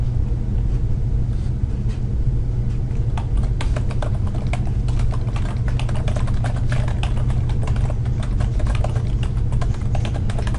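Steady typing on a computer keyboard, rapid light key clicks running throughout over a constant low rumble like a car or room hum beneath.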